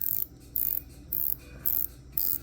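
A 120-click coin-edged bezel on a black PAM-style watch case is turned in five short bursts of fine, rapid ratcheting clicks with brief pauses between, crisp and close with no voices.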